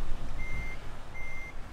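Reversing alarm of a truck being backed into a parking spot in Euro Truck Simulator 2, two steady high beeps a little over a second apart above a low engine rumble.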